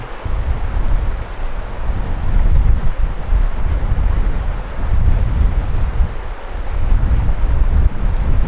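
Strong wind roars and buffets the microphone continuously at a Colorado fly fishing spot, a heavy low rumble with gusts swelling and easing throughout.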